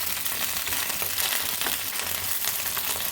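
Flat beans frying in hot oil in a pan, giving a steady, dense sizzle with a crackly hiss that stays close and even throughout, with no voices.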